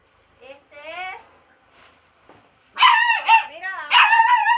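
A dog at a Cuban family's home barks and yips in short bursts, a few quick barks at first, then a louder run of sharp, close barks, with no talking.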